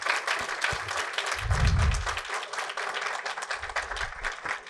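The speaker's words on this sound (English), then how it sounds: "Let's give him another round of applause" An audience at a talk on quantum technology breaks into a round of applause, a dense, fairly distant patter of clapping that holds steady, with a few low thumps mixed in.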